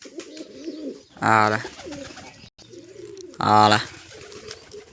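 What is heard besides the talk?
pigeons cooing while coming to eat grain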